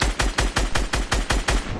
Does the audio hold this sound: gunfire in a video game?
yes